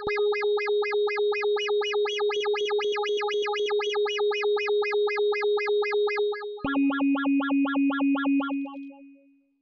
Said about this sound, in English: we hear a wavetable modulation